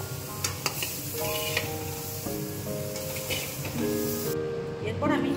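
Banana stem (thor) frying with turmeric in a pan sizzles steadily, with stirring scrapes and light clinks close by and soft tonal background music throughout.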